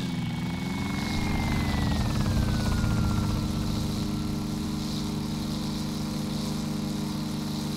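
Helicopter in the DayZ Epoch video game flying in to land, its steady loud rotor drone and engine whine continuous throughout, with a turbine tone gliding downward early on.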